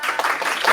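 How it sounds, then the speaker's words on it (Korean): Audience applause at an evening developer meetup talk, a dense patter of many hands clapping steadily at close range for a brief moment. "박수 감사합니다."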